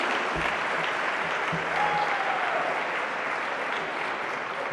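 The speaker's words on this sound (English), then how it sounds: "Everybody should give them a round of applause." Sustained crowd applause for the organizers at a gala ball, a dense, steady roar of many hands clapping that holds at an even level throughout.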